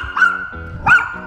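Two sharp, close dog barks about half a second apart, loud and clear with no talking.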